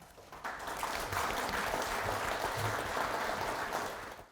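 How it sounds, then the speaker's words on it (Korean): A seated audience at a knee-health lecture gives a professor of rehabilitation medicine a welcoming round of applause, a thick, even patter of many hands that rises quickly and fades at the end. "큰 박수로 환영해 주시기 바랍니다"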